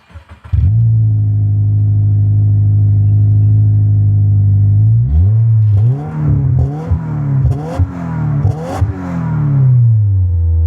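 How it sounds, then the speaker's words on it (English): A 2025 Subaru WRX TS turbocharged 2.4-litre boxer engine with sport exhaust starts and idles with a deep steady burble, then a series of sharp throttle blips rev it up and down with crackling exhaust pops. "We're going to jump in and have a bit of a rev in a minute."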